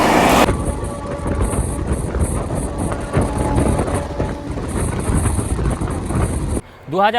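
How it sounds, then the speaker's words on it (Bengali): Jan Shatabdi Express from Howrah racing through Khemashuli station at high speed, a loud sustained rush of wheels and wind-blasted roar close by that cuts off abruptly near the end, with a voice narrating over it. "আমাশলি স্টেশনে দ্রুত গতিতে পাস হচ্ছে জনশতাব্দী এক্সপ্রেস হাওড়া থেকে আসছে"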